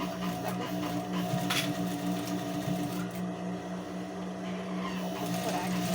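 A sewing machine runs a straight seam on a baby car seat cover with a continuous, even mechanical hum and fast rapid stitching throughout, close and steady, with no pauses.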